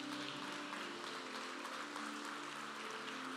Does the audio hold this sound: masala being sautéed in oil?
no